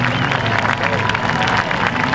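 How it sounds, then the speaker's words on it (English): Speedway crowd at a stock car race applauds a dense wash of clapping and cheering, loud and steady, with crowd babble and a voice over a loudspeaker mixed in. "I want everybody to give Dave Thomas, Diane Thomas, and Ellie a nice round of applause"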